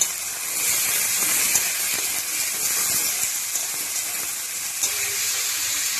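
Onion with carrot, beans, potato and radish sizzles in a pan as it is stirred and fried, a steady close hiss with occasional soft scraping and clinks.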